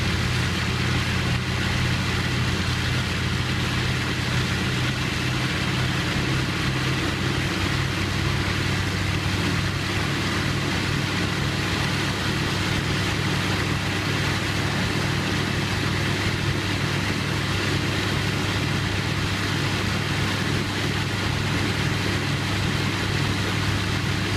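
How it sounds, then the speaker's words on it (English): A World War II radial aircraft engine, primed and started by engineers at a Pocklington event tied to the Halifax bomber, runs steadily with a loud, continuous low droning roar that holds throughout without breaks. "Watching engineers carefully prime, start, and run the engine"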